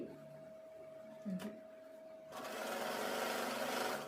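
A sewing machine stitches a fall onto a saree: a faint hum, a brief click, then a steady close whirring run of stitches that lasts to the end, with no speech.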